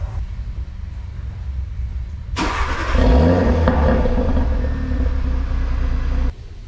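A 2018 Audi RS3 with its stock exhaust makes a warm startup. The engine catches with a sudden loud roar, then settles into a strong, close rumbling idle before cutting off near the end.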